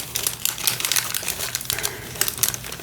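Origami paper being creased and folded by hand, close crinkling and crisp rustles in quick irregular bursts, no voices.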